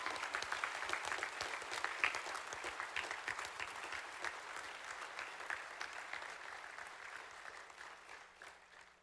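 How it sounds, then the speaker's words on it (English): An audience claps steadily for a young woman named Kayla as she is invited on stage at an event, dense applause filling the room for about nine seconds before gradually thinning and fading. "will y'all clap for Kayla?"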